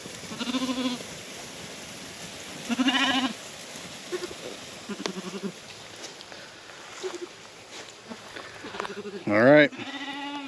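Sheep on a grazing pasture bleat several times at close range, with a few separate calls spread across the stretch and one loud call near the end, amid quiet outdoor background.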